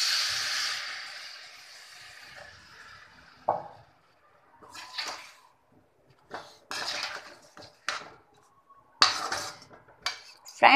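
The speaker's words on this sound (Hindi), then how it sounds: "अभी उन्हें अच्छे से मिक्स कर देंगे। इसमें हम 1 कप पानी डालेंगे।" A spoon stirs a spice mixture and water in a cooking pot, a pouring splash first, then scattered metallic scrapes and clinks, close and moderately quiet, with no talking.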